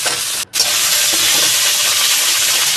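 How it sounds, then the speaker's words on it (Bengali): Potatoes fry in a pan while cooking a Bengali puti fish chorchori, giving a steady, loud, bright hiss of sizzling oil that breaks off for a moment near the start and then continues evenly. "এগুলোকে ভালো করে ভেজে নেবো।"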